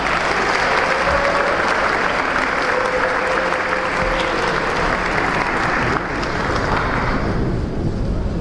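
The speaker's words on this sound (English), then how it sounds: "A big round of applause for the Great Synagogue" A large crowd at a celebration of a decade of Chabad of Rechavia applauds the Great Synagogue, with loud, continuous clapping and faint voices rising over it, sustained throughout.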